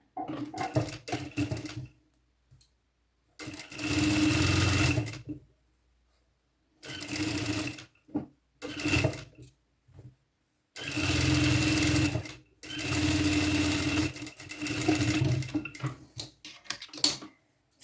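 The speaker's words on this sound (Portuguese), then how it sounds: "E vamos fechar os dois lados com uma costura com a margem de 1 centímetro." An electric sewing machine stitches the side seams of a midi dress in several loud, close bursts of rapid whirring, each running a second or two with short quiet pauses between them.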